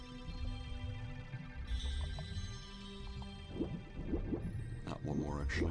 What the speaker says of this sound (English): Gotta raise the water level a few times